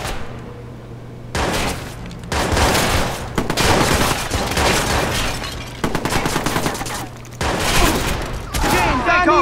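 Rapid bursts of gunfire in the video game Watch Dogs, loud volleys repeating in several clusters with short pauses between, close and dense, with voices talking over parts of the shooting.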